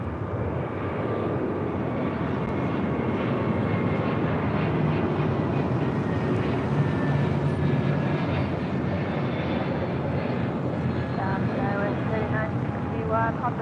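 A Delta Airbus A321neo departs LAX on runway 25 right, its engine noise a sustained rumbling roar that builds gently, with someone talking faintly underneath.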